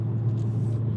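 Toyota Supra engine idling with a loud, steady low rumble, close and continuous without pause.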